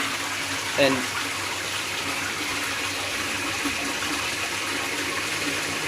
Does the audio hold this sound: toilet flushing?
yes